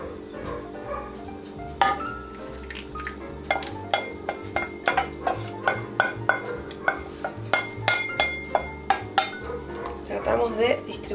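A spoon stirs milk and caramel in a hot pot, striking the metal in a run of sharp, regular clinks and scrapes. The clinks grow busier in the second half over a low steady background hum.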